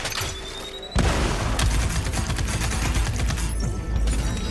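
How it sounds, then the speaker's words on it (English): A thruster grenade in a video game blows up against an armored turret, one sudden booming blast followed by a rumbling, crackling roll of debris and gunfire-like thuds. "Let's toss a thruster grenade to deal massive damage."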